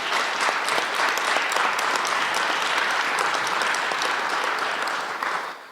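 Audience applause at a 2019 federal candidates forum in Calgary Northwest, a dense, steady burst of clapping from a crowd that holds for several seconds and fades out at the end.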